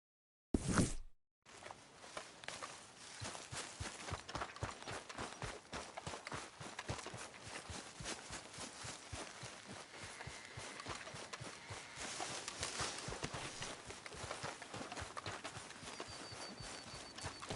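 Horse hooves clip-clop steadily on the ground in Red Dead Redemption 2, a continuous rhythmic trotting that runs alone for most of the stretch after a brief burst at the start.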